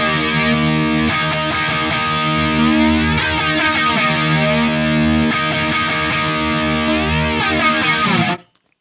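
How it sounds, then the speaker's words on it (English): Distorted electric guitar through a TONEX pedal, with chorus switched on and off via MIDI, plays sustained chords with shimmering, wavering modulation, loud and continuous, cutting off sharply at the end with no talk. "toggle the chorus on or off."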